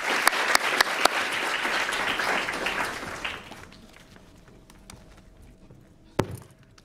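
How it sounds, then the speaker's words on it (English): Applause from an audience at a community development and mental health talk, a few sharp nearby claps over a steady crowd clapping that fades out after about three seconds, followed by quiet room noise and a single loud knock. "let us give Rochelle a round of applause"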